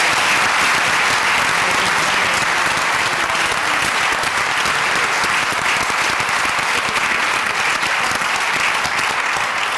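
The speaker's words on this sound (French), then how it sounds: "applaudissez le fort" Dense, sustained applause from a theatre audience at the close of a full-length play, steady and loud throughout with no pauses.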